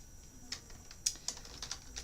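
Soft, sparse keystrokes on a computer keyboard, a handful of light clicks spaced unevenly over two seconds, quiet and close with no voices.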